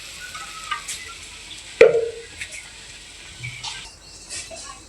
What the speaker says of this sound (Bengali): প্রথমে এই যে জিরা দিয়ে নিচ্ছি